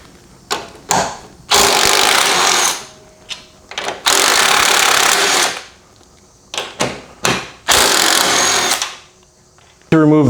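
Bursts of a power tool whirring as it spins off the 15 mm top strut mount nuts under the hood of a Chrysler 200, loud and close, several long runs broken by short trigger blips and pauses.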